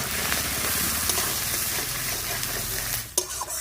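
Ground cumin and coriander paste with turmeric fries in a pan for ol dhokar dalna, giving a loud, continuous close sizzle, with a few stirring scrapes and knocks near the end.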